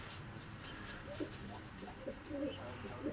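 Soft, low cooing from a few pigeons comes in short bursts against a quiet, hissy background.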